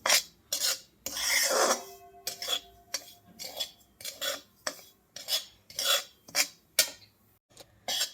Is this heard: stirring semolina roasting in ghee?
yes